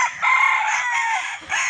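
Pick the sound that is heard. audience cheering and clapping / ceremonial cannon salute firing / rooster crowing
rooster crowing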